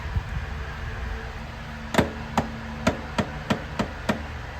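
Sharp metallic taps from hammering a Toyota Corolla axle into place, seven distinct strikes at a slowing irregular rhythm over a low background hum, close and fairly loud.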